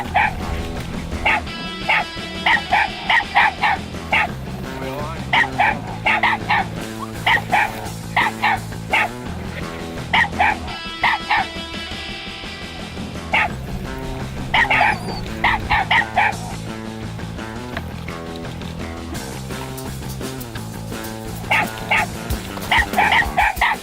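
Hunting dogs barking and yipping at a raccoon up a tree, a continuous chorus of loud, rhythmic baying from several dogs close by, with excited yelps mixed in.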